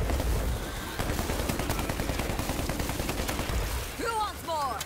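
Continuous, dense gunfire from stationary guns in World War Z horde mode rattles loudly and without pause, with rapid shots layered over a steady roar and a few whistling sounds near the end.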